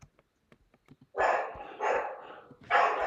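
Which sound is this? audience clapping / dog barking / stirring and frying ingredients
dog barking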